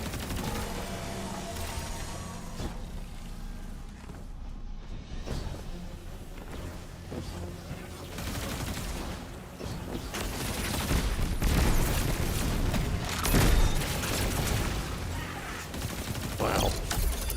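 Rapid bursts of gunfire from the video game Destiny 2, dense overlapping volleys and booming shots that grow louder and more intense toward the end, with no talking.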